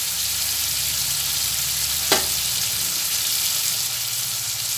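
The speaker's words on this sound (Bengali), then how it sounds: "সব দিয়েই তেলের মধ্যে অল্প করে ভেজে নিচ্ছি" Ginger and tomato fry in oil with a steady sizzle, a short sharp clink of stirring near the middle; no one speaks.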